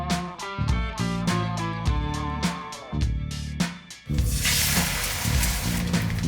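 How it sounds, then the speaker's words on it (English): An omelette with gruyere and mozzarella cooks in a pan, a steady hiss and sizzle of frying that swells louder in the second half, heard close with a pulsing music-like layer in the first few seconds. "I'm gonna add my mozzarella and let it cook, let it cook, let it cook."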